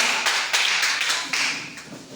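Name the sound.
congregation applauding in church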